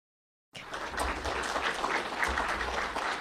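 An audience bursts into applause after a short silence, a dense, steady clatter of many hands clapping at moderate loudness that continues to the end without talk.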